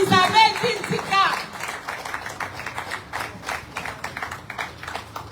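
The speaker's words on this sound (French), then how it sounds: "Applaudissons même d'abord pour notre reine, la reine Constance Isabelle Tintika" Applause from an audience at the first anniversary celebration of the Bonambela Foundation, honouring the queen. It starts as dense, steady clapping, then thins into looser, scattered claps with voices mixed in.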